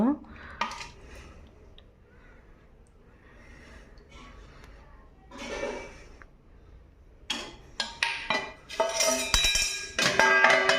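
A lid set onto a cooking pot of thin fish curry in a home kitchen gives sharp metallic clinks and clatter near the end, after quieter handling sounds and a brief burst midway.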